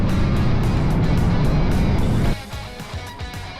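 A Harley-Davidson Sportster motorcycle riding close by, its loud engine roar filling the first two seconds before dropping abruptly to a quieter rumble.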